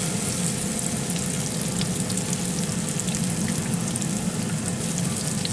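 Green tomato slices fry in a pan with a steady, dense sizzle and crackle that holds close and even throughout, with no talking.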